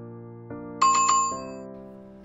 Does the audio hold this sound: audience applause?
no